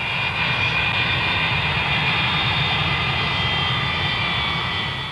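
Jet airliner engine roars steadily at Idlewild airport, a loud continuous whine over heavy rumble that holds for several seconds without a break.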